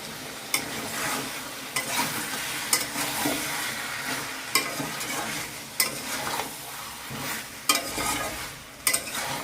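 Ground cumin, coriander and chilli powder are stirred in a hot pan for a country chicken kosha curry, a steady sizzle under repeated scraping spoon strokes, close and fairly loud, with no talking.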